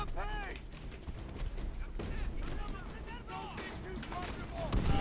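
Mortar and gunfire booming in the World War II shooter game Call of Duty: World at War, repeated muffled blasts and rattling shots under near-constant talking.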